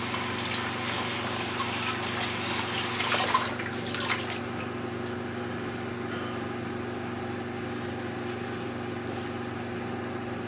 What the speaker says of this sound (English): I'm gonna have to run water